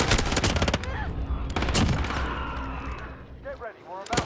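A FiNN light machine gun fires in the shooter Modern Warfare, loud bursts of rapid automatic fire broken by pauses, mixed with game effects and a player's voice over it.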